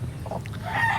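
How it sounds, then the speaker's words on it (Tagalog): Chickens cluck briefly outdoors in a short burst of soft clucks and calls at close to moderate range, over low background rumble. "ato ang mga manok."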